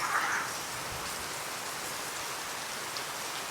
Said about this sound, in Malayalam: കിടുക്കം മഴ.